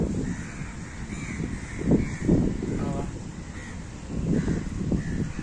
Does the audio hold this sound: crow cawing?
yes